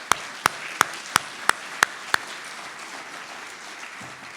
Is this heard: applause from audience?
yes